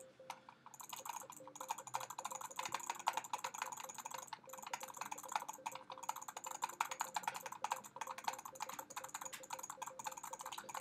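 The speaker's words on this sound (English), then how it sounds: "Sorry for jitter clicking noises" Rapid jittery clicking of a computer mouse during a Dungeon Quest gaming session, dense irregular bursts of small sharp clicks continuing throughout, close and fairly quiet.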